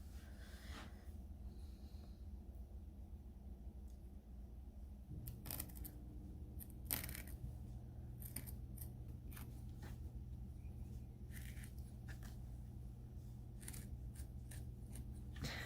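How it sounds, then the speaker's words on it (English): Scissors snip through fabric selvage in several short, sharp cuts spaced irregularly over a low steady room hum, with no talking. "Just gonna cut a little bit more of this selvage so I have more fabric I can manipulate."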